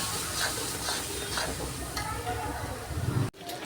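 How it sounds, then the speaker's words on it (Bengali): Spice paste fries in oil for a potato curry, giving a continuous close sizzle with soft stirring sounds that cut off abruptly near the end. "মশলা বেশ করে কষাবো, কষিয়ে একদম তেল ছেড়ে গেলে আলু দিয়ে দেবো।"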